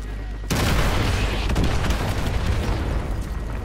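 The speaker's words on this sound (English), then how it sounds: "Fire mission received. Artillery inbound." Artillery strike explosions in Call of Duty Modern Warfare 2 Remastered: a sudden loud blast hits after a brief quiet moment, then rolling booms and crackling rumble continue densely.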